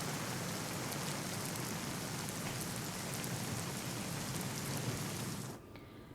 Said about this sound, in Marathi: नंदुरबार जिल्ह्यात मुसळधार पाऊस सुरू आहे.